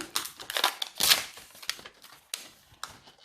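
Scissors snip and crinkle through the wrapping of a giant surprise egg: a burst of close, crackly plastic rustling and cuts, loudest near the start and thinning into scattered sharp crinkles.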